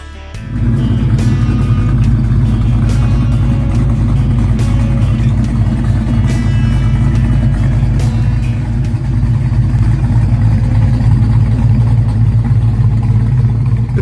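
A Pontiac GTO muscle car engine starts and settles into a loud, deep, rumbling idle close by, holding a heavy steady throb for over ten seconds with slight surges.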